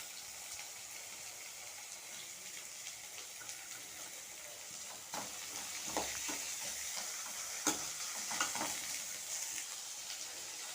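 Onion, carrot and beans sautéing in a pan for rava kichadi: a continuous hiss of frying, with stirring clatters and scrapes growing busier midway through, and no talking.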